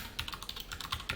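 Keys clatter on a computer keyboard as code is typed, a quick close run of distinct taps with no speech.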